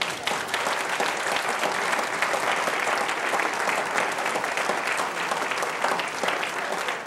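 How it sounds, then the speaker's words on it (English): Dinner guests at an honorary degree dinner give the kitchen staff a steady, dense round of applause, loud and even throughout with no voices standing out. "let's give all the folk that are back there getting ready to bring it out a resounding"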